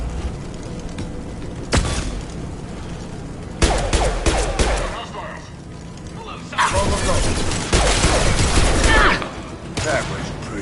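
Gunfire from Blue Suns mercenaries and Vorcha in Mass Effect 2: bursts of rapid shots and cracks come in several clusters over background noise, with a voice talking in between.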